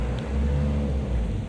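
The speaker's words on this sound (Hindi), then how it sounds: "और फिर हल्की सी रेस दो" A Toyota Coaster bus engine revs lightly while pulling away in first gear, a loud, close, low rumbling drone that swells steadily.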